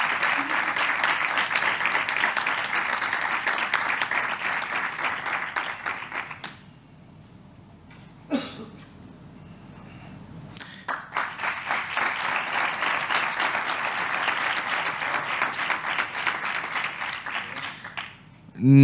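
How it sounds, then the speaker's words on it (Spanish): Audience applause at a Civil Protection recognition ceremony, a dense steady clapping that runs for several seconds, drops to near silence and then swells back up loud and sustained. "un fuerte aplauso para Dani."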